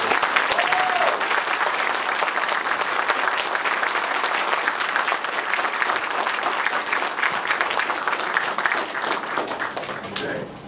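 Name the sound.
audience applause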